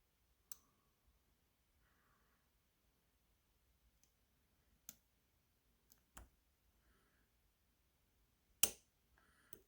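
A lock-picking tension tool on an Avocet ABS Master Series lock gives a handful of sharp, sparse clicks spaced a second or more apart in near silence, one noticeably louder near the end.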